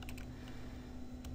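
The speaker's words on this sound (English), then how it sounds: "I'm just typing in random words here" Computer keyboard typing during a software demo, quiet and close, with a few soft keystrokes early on and again near the end over a low background hum.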